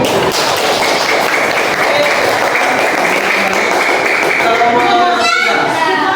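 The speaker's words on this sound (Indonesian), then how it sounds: "Beri tepuk tangan teman-teman." Students in a classroom clap together in a dense, steady round of applause lasting several seconds, fairly loud and close, with a few voices rising near the end.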